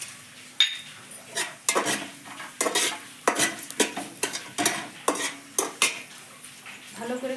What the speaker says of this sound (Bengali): পোলাওর জন্য দুইটা তেজপাতা একটা গরম মশলা এখানে আছে দারুচিনি একটা স্টার মিচ ইলাইচি লং আর গোলমরিচ